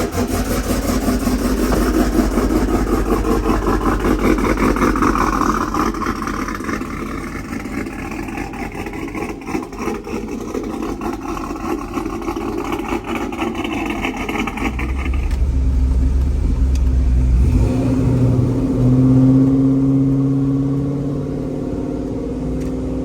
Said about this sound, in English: let's give her her last cold start with an automatic transmission.